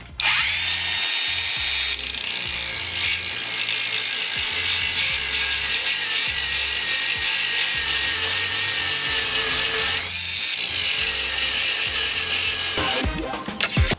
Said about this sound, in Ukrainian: Ось я зачищаю зварювальний шов.